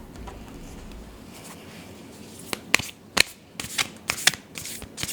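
Tarot cards being shuffled and riffled by hand, a soft hiss at first and then a run of sharp, close papery snaps and flutters that grow louder toward the end, with no one speaking.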